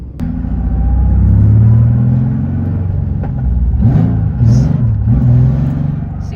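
A Nissan 350Z engine drones loudly from inside the car, rising and falling as it revs through the gears while driving, running rough.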